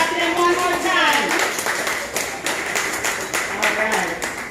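Applause at an awards ceremony: scattered, uneven hand claps pop through the room while a person keeps talking over them.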